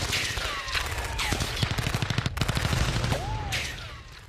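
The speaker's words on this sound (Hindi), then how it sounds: "सैनिक ड्रोन पर गोलियां दागते नजर आ रहा है" Rapid bursts of gunfire as soldiers shoot at a drone, a fast rattling volley of shots crackling loud and close through the middle of the clip, with no talk.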